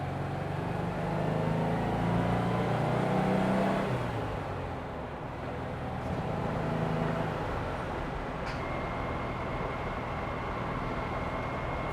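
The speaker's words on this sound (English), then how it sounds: "Fourth gear does whine just a little bit." Porsche 356 driving in fourth gear, with a steady engine drone and road noise and a faint high transmission whine running underneath, engine tone rising and then settling, heard from inside the car with no speech.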